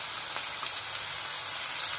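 Steady sizzling and crackling of onions and tomatoes sautéing in hot oil, close and continuous, with no voices.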